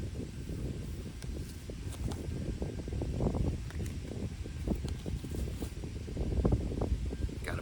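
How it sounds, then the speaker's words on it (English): A strong outdoor gust of wind buffets and rumbles across the microphone, rising and falling in rough surges with rustling bursts, loud and near, no one speaking. "Got a big old gust of wind right there"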